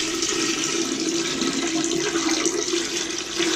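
Dirty water pours loudly from the tank of a Hoover SmartWash carpet cleaner into a drain, a close, continuous gushing rush that holds steady for several seconds with no talking.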